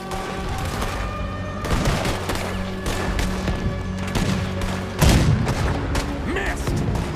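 Cannon fire aimed at a boat in the video game Red Dead Redemption 2, a series of loud booming blasts mixed with gunfire and crashes, with a heavier blast near the end and voices talking throughout.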